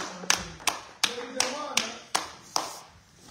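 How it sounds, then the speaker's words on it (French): A church congregation claps their hands in praise, giving seven sharp, loud claps at an uneven, slow pace, with a voice murmuring faintly between them. "Nous allons acclamer avec nos mains"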